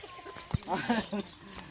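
Chickens clucking close by at a rural Thai home while bamboo shoot curry is being cooked, with a few short clucks in the middle of the stretch over faint background noise.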